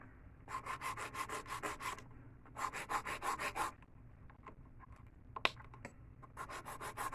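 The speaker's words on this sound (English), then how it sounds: "So you see, with the more filing I'm doing, the thinner the nail is getting." An acrylic nail is shaped with a hand file in quick back-and-forth strokes, heard as close, crisp scratchy bursts in three rhythmic runs separated by short pauses, one small tap between them, with no talking.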